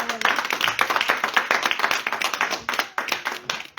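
A church congregation applauding together, brisk hand clapping filling the room for a few seconds, close and lively with uneven rhythm.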